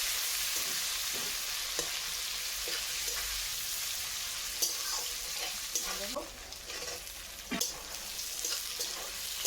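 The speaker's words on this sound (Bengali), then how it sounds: "পেঁয়াজটা বেশ সুন্দর করে ভেজে নেবো" Onions frying in oil in a wok with bay leaves, a steady close sizzle with intermittent scraping and stirring clinks throughout, and faint speech in the background.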